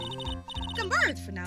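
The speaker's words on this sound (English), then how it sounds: "so that was my phone that went off?" A cell phone ringing in the Phoenix Wright video game, a short warbling electronic ring tone rising and falling under game music, with a voice speaking over it.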